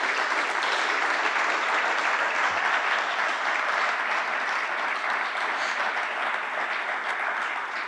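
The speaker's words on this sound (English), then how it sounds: "Please give them all a round of applause." An audience at a Denver Air Connection service announcement gives a sustained round of applause, dense steady clapping filling the room at even loudness for the whole stretch.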